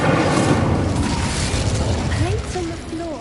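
An Incendio fire spell cast in a Harry Potter video game, a loud, dense whooshing roar of flame that rises and then tails off, with faint warbling tones near the end.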